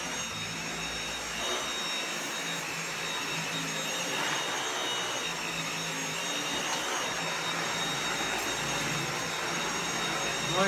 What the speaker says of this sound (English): Here it is, our new Dyson.